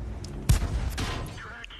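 A tank gun fires in World of Tanks from a VK 30.02 (M), with one sharp loud blast that rolls off into a fading rumble. A smaller crack follows.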